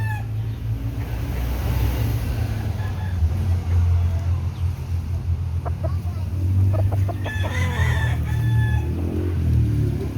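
Young roosters (stags) crow in a yard, one drawn-out crow rising clearly above steady low background rumble, with a few faint clucks and other bird calls scattered around it.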